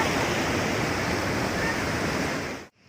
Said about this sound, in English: So this is traditional waterfalls.